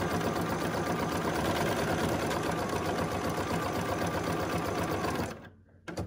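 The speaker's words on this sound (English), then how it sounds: "Now I'm just going to carefully sew over my wire." A sewing machine stitches steadily over wire in a pin cushion project, its fast, even mechanical whir close and loud, running continuously before winding down and stopping near the end.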